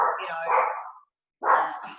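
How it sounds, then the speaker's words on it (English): Two high-pitched, yappy barks from a Chihuahua nearby, separated by a brief pause. "she's barking away"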